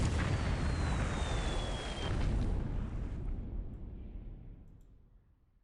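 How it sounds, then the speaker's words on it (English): Naval shell fire from 6-inch guns in the War in the Pacific strategy game, a loud rumbling explosion burst that swells and then slowly fades out. "he's still taking shell fire here from these 6-inch guns"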